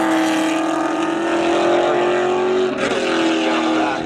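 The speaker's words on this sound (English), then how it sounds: "coming up to the line now, Mackenzie Stevenson in the 2000 Chevy Camaro" A 2000 Chevy Camaro races around the track at a Labor Day spectator drag event, its engine a loud, sustained roar with a steady rising pitch and a brief dip as it passes.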